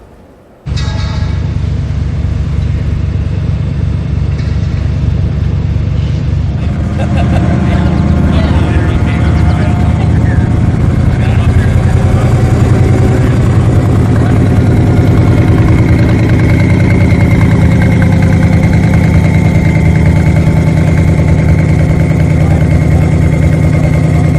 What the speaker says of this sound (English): The engine was the LT5, which is the same engine that you saw in the C4 Corvette ZR1.